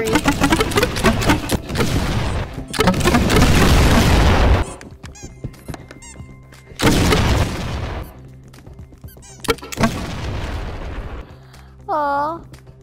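Egg launcher shots and explosions from a video game come in loud repeated bursts of booms and crackling fire, separated by quieter gaps, with voices heard among the blasts.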